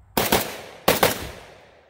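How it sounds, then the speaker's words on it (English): An AK47 rifle fires two quick pairs of shots at two targets, each pair a sharp, loud crack followed by a fast second shot and a brief ringing decay. "we're gonna go left target, right target, 2 shots in each, fairly fast."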